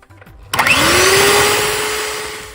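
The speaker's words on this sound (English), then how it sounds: "So now we're gonna add in our 2 eggs and beat it for another minute" An electric mixer whirs into life and beats eggs into cream cheese and sugar for a key lime cheesecake pie, a loud, steady motor whine that rises in pitch as it spins up, heard alone.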